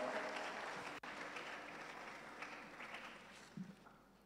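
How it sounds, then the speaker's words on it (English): An audience at a university research week event gives a sustained round of applause, broad and steady, with a brief dropout and a few louder bursts before it tapers off. "I will take a round of applause."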